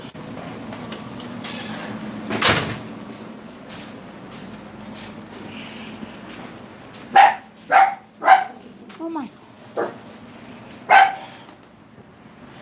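Several sharp dog barks in quick bursts, close by, separated by pauses over a quiet background, with a brief spoken exclamation.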